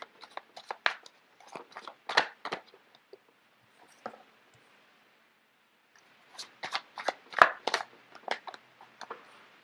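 Tarot cards being shuffled nearby, with bursts of riffling and flicking separated by a quiet gap. The sound is fairly soft and no one speaks.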